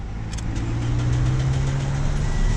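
A car engine idles steadily nearby with a low, constant hum and rumble, no one speaking.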